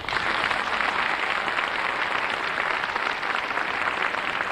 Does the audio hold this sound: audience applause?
yes